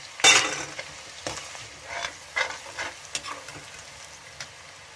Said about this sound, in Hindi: तो मैंने अब ये फ्राई कर लेते इनको और इसी के अंदर डाल देते अदरक और लहसुन का पेस्ट, ताकि इसी में भुंज जाए तेल के अंदर।